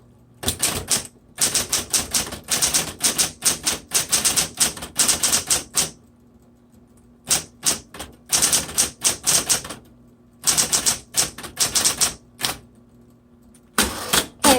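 Rapid clacking of a 1960s Smith-Corona Coronet Automatic electric typewriter in several bursts, keys striking quickly and evenly with short pauses between runs over a faint motor hum.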